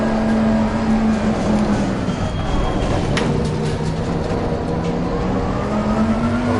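Race car lapping a track in the Assetto Corsa sim, a constant loud engine drone that dips mid-run and then climbs again, with a faint voice briefly underneath.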